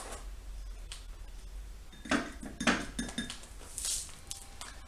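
Metal teaspoons clink and scrape against containers as bicarb soda is measured out, a few light chinks and taps clustered together, close and fairly clear.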